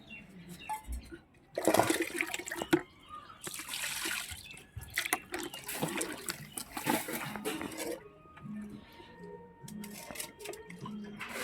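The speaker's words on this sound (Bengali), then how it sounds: "এবার মাংসটা আমি ধুয়ে পরিষ্কার করে নিচ্ছি।" Raw chicken meat washed under running water in a home kitchen, splashing and gushing in bursts with dripping between, close by, while a person talks over it.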